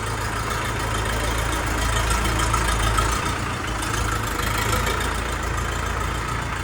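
A John Deere-style Orion JD 504 tractor with a cab idles steadily, a constant low rumbling drone that stays close and loud throughout, with no other sounds.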